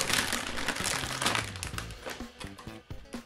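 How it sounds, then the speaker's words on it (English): A seal sticker is peeled off the packaging of an Asus TUF GTX 1650 graphics card, heard up close as a burst of crinkling and tearing followed by scattered plastic rustles. "This is sealed, so I'm going to remove the seal sticker here."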